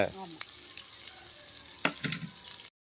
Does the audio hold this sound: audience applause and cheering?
no